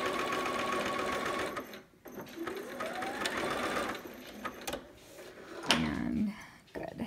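A sewing machine zigzag-stitches along a 1/4 inch hem, giving a close, steady mechanical whir that pauses and restarts a few times. Soft talking runs over it.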